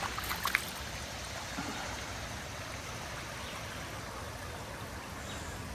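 Water of Hokendauqua Creek flows steadily below the ruins of an old aqueduct, a soft, continuous outdoor wash with a couple of faint knocks at the start.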